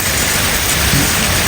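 Very heavy, sustained downpour in Islamabad, a dense, even hiss of rain that fills the whole moment with no voices over it.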